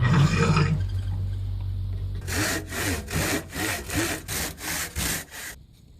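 A hand saw resaws a wooden board along an existing kerf in about eight steady, rhythmic back-and-forth strokes, close and clear, following a brief low rumble.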